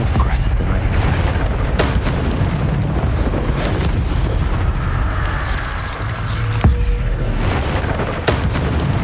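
A Bombarda spell blast in Hogwarts Legacy, a booming explosion amid constant rumbling combat noise, with a sharp crack near the end and speech on top.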